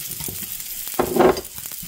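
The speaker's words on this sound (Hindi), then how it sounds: "थोड़ा थोड़ा करके हमने इसको फ्राई करना है" Gond (edible gum) frying in desi ghee, a close, continuous bubbling sizzle with a brief louder surge of crackling in the middle and faint stirring taps.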